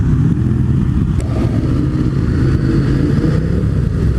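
A pack of motorcycles on a New Year's group ride rumbles loudly and close, engines idling and revving together in a dense, continuous drone.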